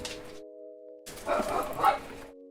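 A dog barks and yips in a quick cluster of sharp, close calls, with a steady low hum running underneath.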